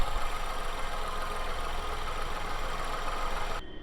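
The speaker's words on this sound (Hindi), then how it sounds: "आवाज़ आप एक बार ही सुन लो इंजन की।" An MG Astor Brit Edition's 1.5 petrol engine idles steadily with the bonnet open, a close, even hum with a faint ticking texture that cuts off abruptly at the end.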